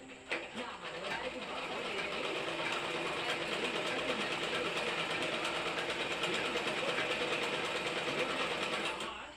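A sewing machine stitching a fall onto a cotton saree runs in a fast, steady, close-up whirring rattle that continues evenly after a brief, uneven start.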